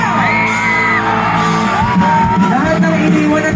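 A large outdoor concert crowd at the CCP grounds in Manila yells and whoops together on cue, a loud sustained roar with rising cheers layered over pounding music throughout.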